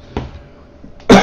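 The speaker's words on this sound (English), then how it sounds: "Please excuse this cough a lot." A single sharp cough close to the microphone during a gaming session, preceded by a fainter throat sound and quiet background hum.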